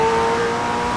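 A McLaren Senna's engine in the Forza racing game gives a brief, loud, steady drone with a sustained tone and no pitch change.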